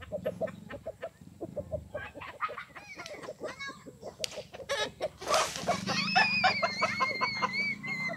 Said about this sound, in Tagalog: Yan, laki ng manok guys